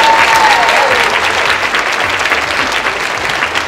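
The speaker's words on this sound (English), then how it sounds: "let's give her a round of applause" An audience at a second grade school showcase gives a round of applause, a steady, full burst of clapping that runs throughout at even loudness.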